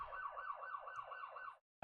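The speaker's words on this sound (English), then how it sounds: "I think that's the ambulance this time." An ambulance siren wails outside in a fast, repeating rising-and-falling pattern at moderate volume, cuts off after about a second and a half, then a sudden loud noise follows.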